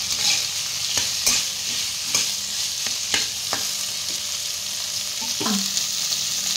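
Potato pieces and salt get stirred in a pan for a fasting-day potato bhaji: a spatula scrapes and clinks against the metal in irregular strokes over a soft, steady sizzle, close and fairly loud.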